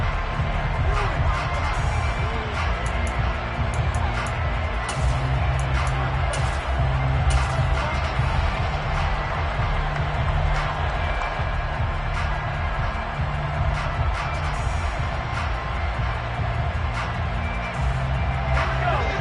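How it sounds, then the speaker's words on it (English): Crowd noise in a Madden NFL video game during a replay of an incomplete pass, a steady far-off roar of shouting fans under continuous play-by-play commentary. "The shouts from this crowd as they watch the replay"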